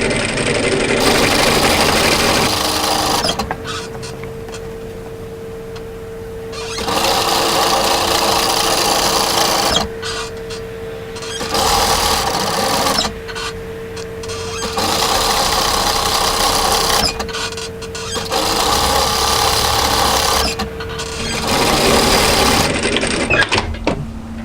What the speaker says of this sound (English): I'm just going to use the edge of my foot as a guide and sew a second line of stitches parallel to the first